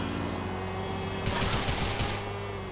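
Gunfire in GTA IV aimed at a motorbike's wheels comes as a rapid burst of shots lasting under a second, standing out against steady game background sound.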